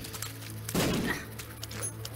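A video game gun fires, a single loud thudding burst about a second in standing out over steady background game noise.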